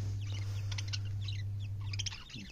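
Budgerigar parakeets in a cage give scattered short high chirps and twitters over a steady low hum, with no talking.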